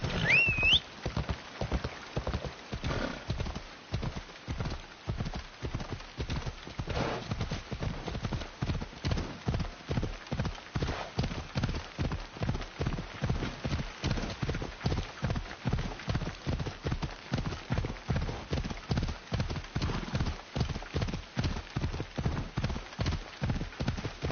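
Horse hooves clip-clop steadily and continuously in Assassin's Creed Odyssey, a brisk, even rhythm of close, distinct hoof strikes running throughout with no talk over them.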